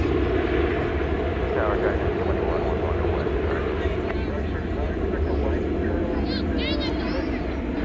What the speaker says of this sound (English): 516, a 737-800 arriving from Cancun